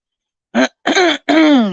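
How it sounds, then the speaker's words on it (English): Three rough throat-clearing bursts from a close voice, a short one followed by two longer, gravelly ones in quick succession. "excuse me for having to constantly clear my throat"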